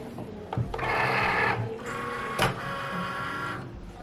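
A Cricut cutting machine draws in an iron-on mat with mechanical whirring and clicking motor sounds, broken by a couple of sharp clunks, close and fairly quiet.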